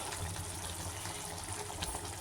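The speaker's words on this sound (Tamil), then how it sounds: "தேங்காய் அரைச்சது ஊற்றலாம்" Ground coconut paste pours into a potato and pea curry in a short, steady liquid gush that stays soft and continuous, with no talk.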